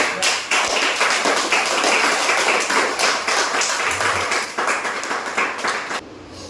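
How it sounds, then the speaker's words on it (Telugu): Audience at a public meeting in Ibrahimpatnam applauding, a dense, steady wave of many hands clapping close by for about six seconds before it thins out at the end. "క్లాప్స్ కొట్టుకొని మంచిగా"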